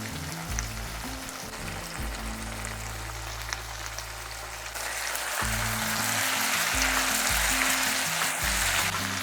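Jackfruit curry sautéing in a little oil on a low flame, a steady close sizzle and crackle that grows louder and denser partway through, under faint background music.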